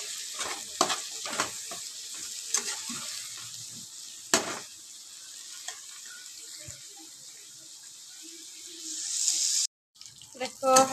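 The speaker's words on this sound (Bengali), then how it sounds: "দিয়ে ভালো করে এবার এটাকে আমি ভাজবো পেঁয়াজের সঙ্গে" Potato, tomato and eggplant fry with onion in a pan, a soft, low sizzle broken by sharp spatula scrapes and taps, growing quieter in the middle before a brief rush of hissing and a cut near the end.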